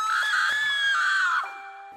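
A girl lets out one long, loud, high-pitched scream at close range, sustained for over a second before it breaks off into a thinner fading tone.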